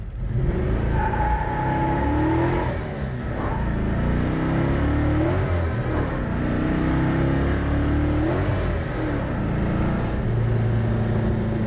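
A 1969 Plymouth Road Runner engine revs and accelerates continuously, deep rumbling with rising pitch sweeps as gears change, loud and close throughout.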